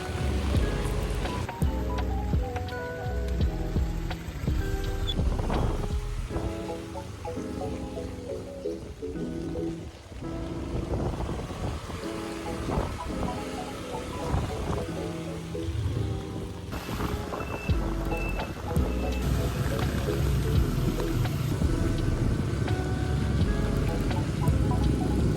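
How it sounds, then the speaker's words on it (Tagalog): Heavy rain pours down in a steady, loud, dense hiss that fills the whole stretch, with some tonal sounds mixed in and no talking. "It's raining so hard."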